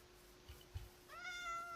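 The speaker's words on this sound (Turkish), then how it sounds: "Aa kedicik." A cat in the Minecraft video game gives a single high meow near the end, clear against quiet background hum after a couple of soft low thumps.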